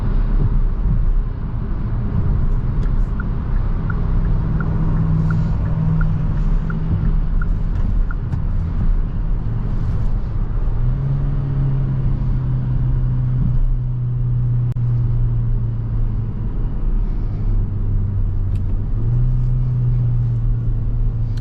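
A 2024 Hyundai Venue with an IVT transmission drives along with a steady, loud road rumble and engine drone throughout, the engine note stepping up and dropping back as the simulated gears shift. No one speaks.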